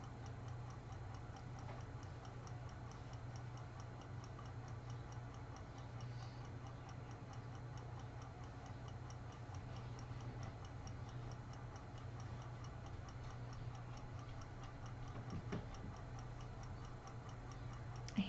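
Soft, steady ticking of a ladybug clock or timer in a quiet room, faint and regular throughout over a low background hum, with no talking.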